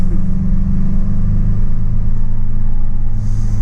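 A Toyota Echo economy car's engine rumbles steadily from inside the cabin as it pulls and accelerates while driving, a loud, continuous low drone with no talking.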